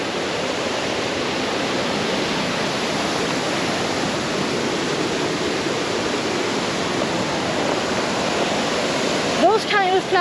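Cam Ly Waterfall in Dalat, Vietnam, a loud, steady roar of rushing water, unbroken throughout, with a brief faint voice near the end.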